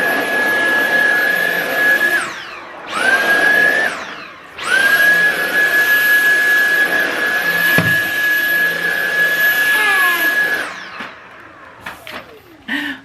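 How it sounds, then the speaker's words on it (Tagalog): A household vacuum cleaner whines loudly and steadily, cutting off twice in quick succession before a long continuous run, then shutting down with a few faint knocks at the end. "Vacuum."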